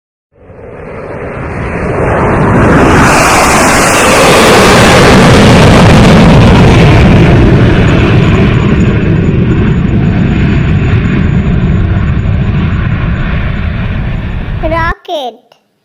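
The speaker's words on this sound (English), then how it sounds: "jet." A jet aircraft engine roars loudly and steadily for about thirteen seconds, building from a rising whine into a broad, sustained rumble before cutting off abruptly, with a brief clatter at the end.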